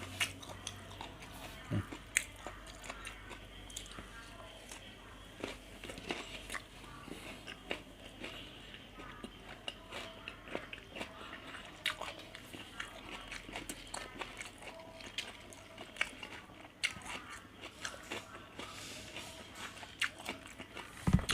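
Repeated bites and chewing of a crab stick salad roll with fresh vegetables, close and intimate, soft crunchy mouth sounds continuing steadily throughout with no talking.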